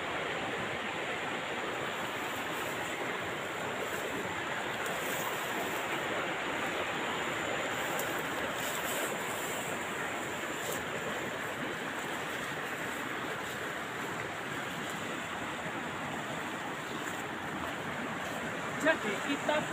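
A large river runs in the dry season in East Java, flowing clear and strong, heard as a steady broad rushing wash of water that stays constant throughout.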